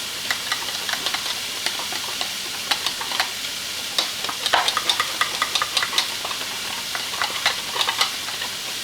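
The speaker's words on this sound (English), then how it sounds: "We're going to whisk that together." A whisk clinks and scrapes steadily against a bowl while sweet and sour sauce ingredients, including garlic powder, are beaten together, giving a close, busy patter of metallic ticks with no talking.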